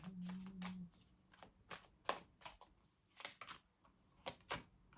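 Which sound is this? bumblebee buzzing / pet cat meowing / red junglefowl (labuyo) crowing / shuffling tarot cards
shuffling tarot cards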